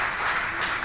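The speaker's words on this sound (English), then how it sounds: "Thank you for that very much appreciated applause" Audience applause, a dense steady patter of many hands clapping, fairly close and continuous for a brief moment with no voices over it.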